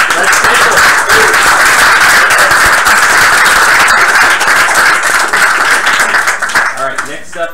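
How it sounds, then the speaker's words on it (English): Loud, sustained applause and clapping from an audience at a hackathon presentation event, holding steady for several seconds before tapering off at the end. "round of applause"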